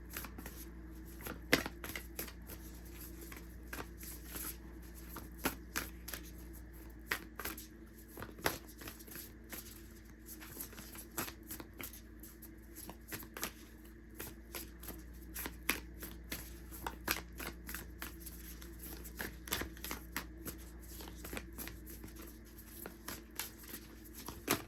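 Moonology oracle card deck shuffled steadily at close range, a soft continuous riffle of cards with rapid irregular snaps running throughout, no speech.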